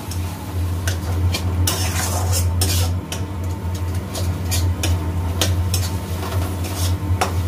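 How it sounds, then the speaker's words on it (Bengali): Spice paste for ghugni sautéing with a splash of water, a utensil scraping and clattering around the pan in quick irregular strokes over a low steady hum and bubbling sizzle, close up and without talk. "সামান্য একটু জল দিয়ে কষবো, সামান্য একটু জল দিলাম, দিয়ে মশলাটাকে ভালো করে কষে নেব।"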